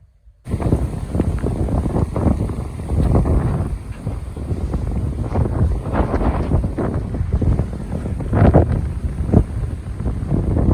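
Strong wind gusts rumble across an outdoor spot near mango trees in mango season, buffeting the microphone in loud, uneven surges for several seconds without talk.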